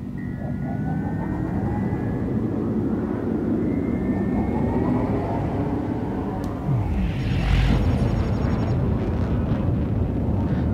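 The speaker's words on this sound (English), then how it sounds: "Make sure we get the gear up, and you'll hear this engine. Listen to the sound it makes." Ship engine in Elite: Dangerous, a loud continuous rumbling roar with a rising whine after the landing gear retracts, steady throughout with no talk.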